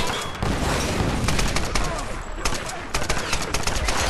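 Assault rifle gunfire in the Tomb Raider video game, dense rapid bursts of automatic shots, loud and sustained, rattling continuously with a short break partway through.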